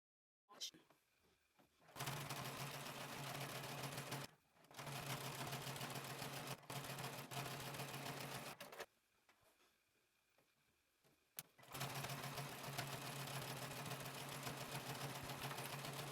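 A sewing machine runs steady top-stitching passes on fabric, a loud continuous mechanical hum in long bursts broken by short pauses, with no talking over it.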